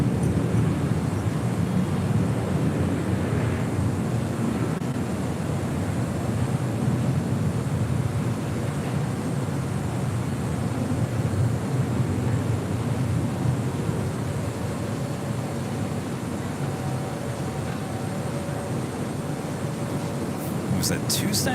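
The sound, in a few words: Boeing 747 jets taxiing at LAX airport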